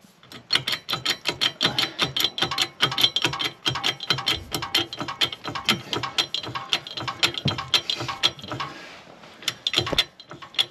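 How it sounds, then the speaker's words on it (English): A bottle jack under a Bürstner motorhome, an old Fiat-based camper, is pumped up in a fast steady run of sharp mechanical clicks and ratcheting clacks, close and loud, pausing briefly near the end. "That bottle jack now is catching back up. So we're just jacking her up now."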